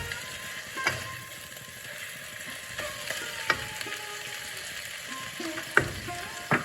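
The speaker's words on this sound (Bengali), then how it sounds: "যে বেগুন ভাজাটা দিয়েছেন অল্প অল্প করে, সেগুলো একটু ভেঙে দেবেন, নেড়ে চেড়ে যতটা ভাঙা যায়" Greens stir-fry in a pan with fried eggplant pieces being broken up, a quiet steady sizzle broken by several sharp scraping clicks of a spatula.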